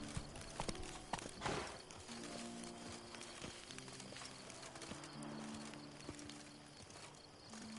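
Roach the horse clip-clops along in the Blood and Wine game world, a steady rhythm of nearby hoofbeats at walking pace, with a brief heavier thump early on and faint ambience underneath.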